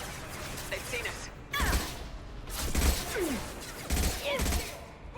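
Gunfire in the video game Mass Effect 2, with bursts of rapid shots and impacts in several loud clusters alongside whooshing effects, heard over the game's ambient backdrop.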